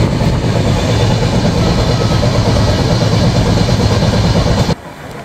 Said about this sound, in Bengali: এখন আমাদের ট্রেনটি থ্রুপাস করে যাচ্ছে নগরকান্দা রেলওয়ে স্টেশন